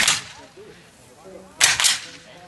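Musket volleys at a Civil War reenactment of First Bull Run, two sharp loud cracks about a second and a half apart, the second a close double report, with faint voices between.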